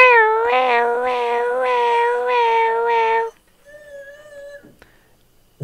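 A cat gives a drawn-out, wavering meow lasting about three seconds, loud and close, followed by a couple of fainter, higher mewing calls.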